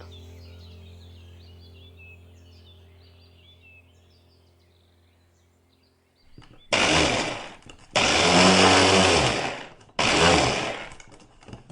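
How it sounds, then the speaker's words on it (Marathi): Faint hum and distant birdsong, then a mixer grinder whirs loudly in three short bursts, grinding coriander leaves, with brief pauses between each run. "हिरवी कोथिंबीर हे मिक्सरमधून बारीक वाटून घेणार आहोत."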